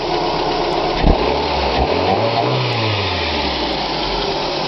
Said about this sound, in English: Let you have a little listen to the air filter.